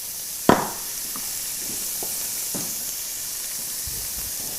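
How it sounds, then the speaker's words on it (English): Onions with oil and salt hit a still-hot pot and sizzle, with a steady hiss and a sharp clack near the start, followed by a few soft stirring knocks. "The pot is still a little bit hot from our mushrooms just before, hence the sizzle."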